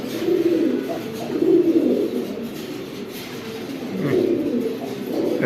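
Pigeons at a wholesale pigeon farm give repeated low, throaty coos in rolling phrases that swell and fade, steady and fairly close, with no talking.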